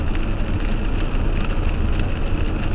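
Steady rain hisses and patters on surfaces nearby on a farm with a pond, a dense, even wash of noise with no voices.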